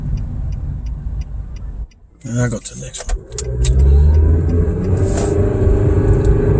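A car driving along the road on the way to a car wash, its steady engine and tyre rumble swelling and holding loud after a brief dip, with a person talking over it.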